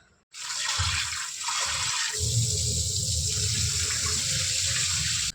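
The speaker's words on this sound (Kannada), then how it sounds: "ಇದನ್ನು ಒಂದು 2-3 ಸಲ ತೊಳ್ಕೊಂಡು ಮತ್ತು ಮಡಿ ನೀರಲ್ಲಿ ನೆನೆ ಹಾಕ್ಕೋತೀನಿ." Broken wheat for payasam being rinsed under water: a steady, close rush of running and splashing water that starts abruptly and continues without a break, with no voices.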